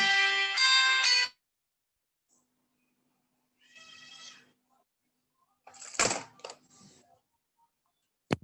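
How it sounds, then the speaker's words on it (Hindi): A bright electronic ringtone melody plays loudly for about a second, followed by fainter tonal bursts, a short clatter, and a sharp click at the end. "तो इनका फोन आ रहा है"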